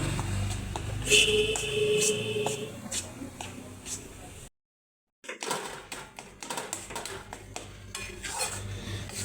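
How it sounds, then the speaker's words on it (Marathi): Maida flour being dry-roasted and stirred in a pan for daraba, a traditional Diwali sweet, with repeated clinks and scrapes of a spoon against the pan, a short silent gap midway, then more close stirring and knocking. "तर आता आपण इथे हा मैदा छान असा व्यवस्थित असा भाजला जात आहे"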